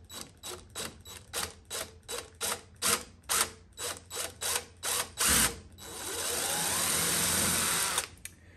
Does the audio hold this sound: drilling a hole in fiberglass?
yes